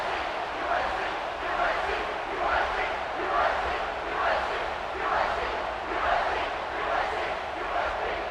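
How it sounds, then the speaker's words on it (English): Stadium crowd in the College Football 26 video game, South Carolina versus Alabama, roaring steadily during a kickoff, with rhythmic swells of cheering and chanting rising every second or so, loud and continuous throughout. "this crowd is feeling themselves after that last drive"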